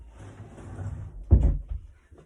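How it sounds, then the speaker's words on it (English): A bedroom door is pushed shut, giving a single close, dull thud followed by a short rattle as it settles, heard against a quiet room. "I'm just going to shut my bedroom door because that is really distracting."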